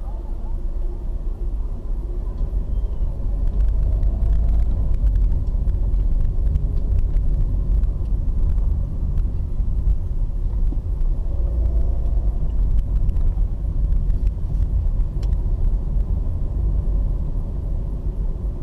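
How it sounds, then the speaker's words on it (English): A car drives through the street roads of Ngombe township in Lusaka, Zambia, producing a steady low engine and road rumble that continues evenly throughout. "Although I don't think you're supposed to be driving through these sort of street roads, Monsieur SCP."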